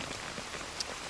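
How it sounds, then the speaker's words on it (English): Steady rain falls in a jungle, a dense continuous patter on surfaces with one brief sharper drip, with no voices. "keep our fingers crossed that it stops raining soon"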